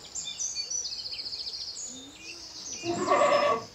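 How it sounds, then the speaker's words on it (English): A goat gives a single wavering, fairly loud bleat near the end as it watches its food arrive, after a few thin, high chirping tones. "This bleating was recorded when a goat could see its food arriving and was experiencing a positive feeling."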